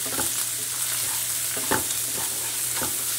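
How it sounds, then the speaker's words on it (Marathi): A spiced potato filling with coriander, cumin powder and turmeric roasts in a pan for bread patties, giving a soft continuous sizzle broken by a few scraping stirs of a spoon, close, with no voices. "छान भाजून घ्यायचं आहे हे सर्व 2 मिनिटं"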